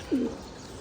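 A single soft, low pigeon coo sounds close by in the morning air on a rooftop where pet pigeons are being let out. It is brief and stands alone.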